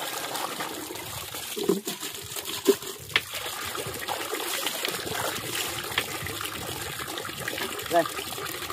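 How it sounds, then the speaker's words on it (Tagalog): Running tap water while dishes are washed, a steady hiss and trickle that rises over several seconds, with a few clinks and voices talking nearby. "palakas na ng tubig."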